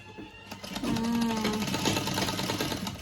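Sewing machine stitching thread piping, a steady close whirring run that starts after a short pause and holds at even loudness, with a brief tonal hum early on and no speech.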